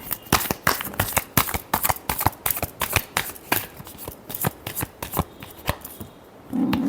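Tarot cards shuffled by hand in a rapid, steady run of crisp riffling slaps, close and clear, with no talking.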